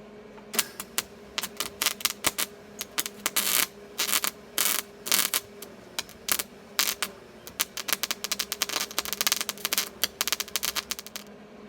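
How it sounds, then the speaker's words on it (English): A MIG welding machine joins metal parts for a barbecue pit, giving close, irregular bursts of sharp crackling and sputtering that start and stop in short runs with brief gaps, and no talk over them. "I do know how to operate this MIG welding machine here."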